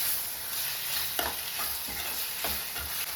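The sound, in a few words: tomatoes frying and being stirred in a pan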